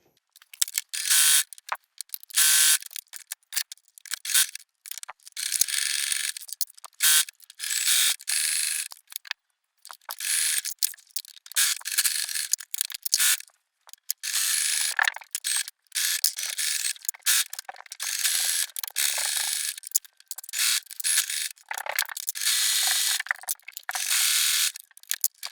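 A sewing machine runs a triple stitch along a swimsuit seam, its bright mechanical rattle coming in a quick series of short and longer bursts with brief pauses between, close and fairly loud.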